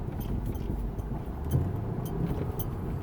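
A parked car idles under an awning in the Mojave Desert, its engine a steady low rumble close by, with no voices over it.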